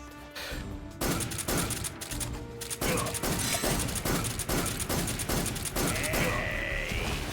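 Rapid automatic gunfire emptying a full magazine in a Metal Gear Solid game, a dense run of loud, close shots that continues for several seconds alongside game sounds.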